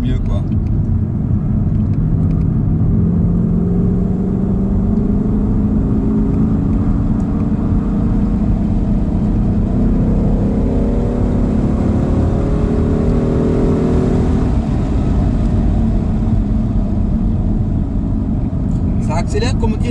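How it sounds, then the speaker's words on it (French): A Volkswagen car with a naturally aspirated engine accelerates quickly but progressively on the road, its loud engine drone rising steadily in pitch over several seconds beneath continuous in-car talk. "Ça accélère, comment dire, vite mais assez progressivement quand même. C'est pas brutal quoi."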